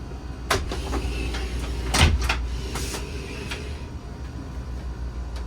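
Several yacht cabin door thumps and slides across a few seconds, with a heavier knock near the middle, over a steady low engine-like hum.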